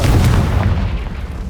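A Confringo spell explosion in Hogwarts Legacy, a single loud, deep boom that hits at once and fades over a second and a half.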